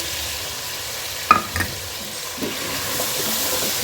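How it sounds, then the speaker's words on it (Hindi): Chicken frying in a pan with whole spices (cinnamon, black cardamom, cloves) for a methi chicken curry gives a steady close sizzle, with a couple of sharp stirring knocks near the start and no talking. "इसका पानी खुश्क होने तक इसको फ्राई करेंगे"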